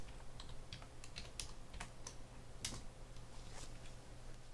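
Keys clatter on a computer keyboard as text is entered into an Excel spreadsheet, a quiet run of irregular clicks and taps close by over a steady low hum.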